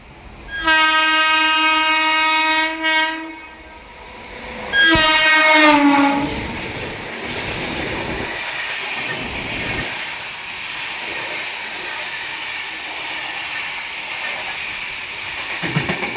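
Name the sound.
Tejas Rajdhani Express train crossing, with horn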